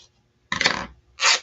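Scissors cut through folded fabric scraps for candy cane banners, two short close rasping snips separated by a brief pause, crisp and alone.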